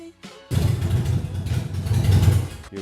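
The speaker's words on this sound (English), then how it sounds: "I have to start the engine in order for the light to come on" A motorcycle engine cranks and catches, then runs with a steady, rough idle rumble for about two seconds before cutting off. A few brief clicks come before the start.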